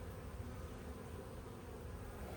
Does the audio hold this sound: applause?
no